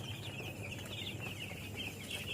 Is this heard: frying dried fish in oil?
no